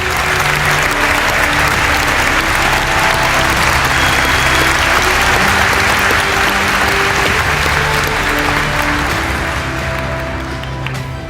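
A large audience applauds a speaker walking to the podium at a Cal Poly event, loud sustained clapping that holds steady throughout and tapers slightly at the end.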